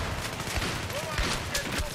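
Rapid bursts of gunfire from a gun in the video game Close Quarters, with sharp repeated shots crackling over a dense, noisy background of battle sounds.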